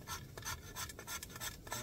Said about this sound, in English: I'm just scraping a piece of fat wood to get some really small pieces